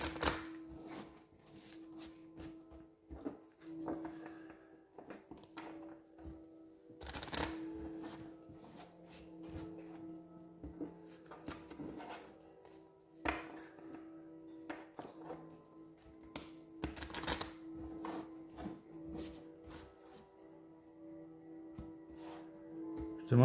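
Tarot cards are shuffled for an Aquarius reading in a long run of crisp riffling and shuffling bursts that come and go, with soft taps between them and no talking, at a close, moderate level.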